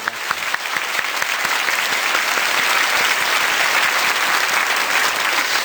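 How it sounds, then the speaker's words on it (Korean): Church congregation at a Korean autumn early-morning revival service breaking into dense, sustained applause that swells quickly and holds at a full, even roar throughout. "우리 고맙다고 박수 한번 드리면 힘을 내실 수 있을 것 같습니다"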